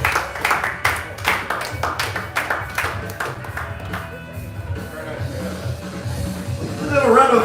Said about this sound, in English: Let's have a round of applause for Tim here